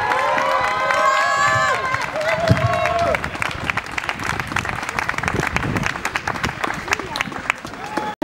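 A person speaks briefly, then a crowd in the occupied La Monnaie theatre in Brussels breaks into sustained, dense applause with some cheering that carries on loudly to the end.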